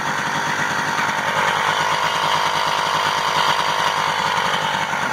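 A moped engine runs close and loud with a continuous buzzing, rattling drone that holds steady throughout, with no voices.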